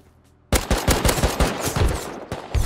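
Gunfire in the survival video game Rust breaks out suddenly after a near-silent moment, loud rapid shots in quick bursts with short gaps between volleys.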